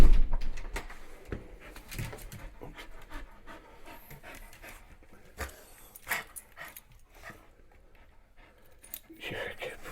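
A house-trained pet dog pants rapidly and close by, mixed with jangling keys, door and cupboard knocks, and people talking over it.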